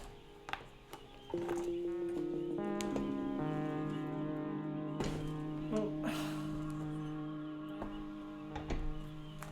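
Sustained tonal bird-like calls in the background of a quiet room, steady and layered with several held pitches throughout, moderately loud with occasional clicks and handling noises.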